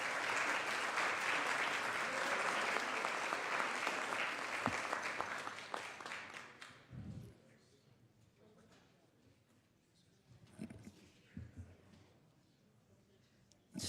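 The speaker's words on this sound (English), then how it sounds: "if we can give her a round of applause for winning the 2014 Wildlife Photo of the Year contest" A room full of people applauds during a Senate floor session, with loud sustained clapping for about seven seconds that then fades into quiet shuffling and a few faint thumps.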